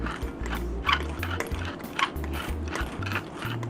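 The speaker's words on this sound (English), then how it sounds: "we're gonna do a race between traditional peppermill and the Thermomill" A traditional pepper mill and a Thermomill grinding side by side in a race, continuous close ratcheting and gritty crunching with overlapping rhythmic grinding strokes, no talk.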